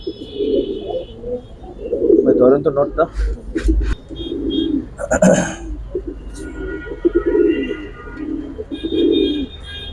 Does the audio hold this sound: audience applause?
no